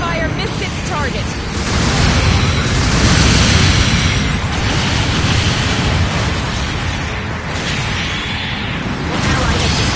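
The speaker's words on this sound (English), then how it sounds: "Long-range support fire incoming!" In the Gundam Battle Operation 2 video game, long-range support fire explosions boom and rumble in heavy overlapping bursts. A dense, loud barrage of blasts and debris runs throughout, and game voice callouts are layered over it.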